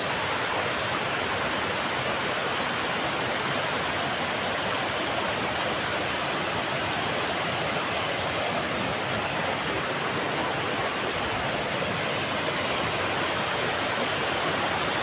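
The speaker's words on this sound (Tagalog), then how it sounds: "Yan ang nakapaligid ng Piduan Falls" Steady broadband rush of water pouring at Piduan Falls in Donvic, a constant dense roar with no gaps, fairly near and heard alone without voices.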